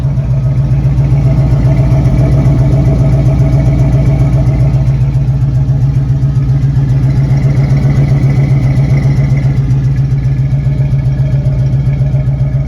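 A 1966 Ford Mustang's 289 V8 exhaust rumbles deep and steady at idle, close range, with a throaty, even low pulse and no pauses throughout.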